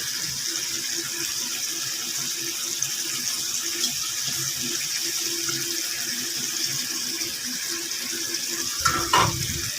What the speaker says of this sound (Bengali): আমি আবার এদিকে থালা বাসন পরিষ্কার করতে হবে এক গাদা থালা বাসন জমে আছে